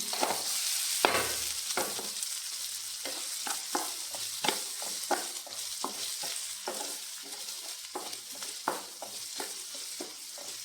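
Tomato, okra and tamarind for a chutney sauté in a hot pan, with a steady sizzle broken by frequent sharp spatula scrapes and stirring strokes, close and alone with no talk.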